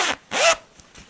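A regular zipper sewn into cosplay fabric being zipped: two quick, close rasping pulls, the second longer, then a couple of faint softer strokes.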